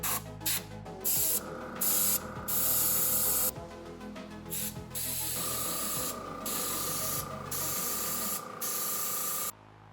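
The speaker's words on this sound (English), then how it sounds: "I bought this Cool Runner airbrush kit just for projects like this. So we're gonna give it a try. A little test run." A Cool Runner airbrush kit sprays paint in a loud, continuous hiss, cut into short bursts at first and then longer sustained sprays, close and alone.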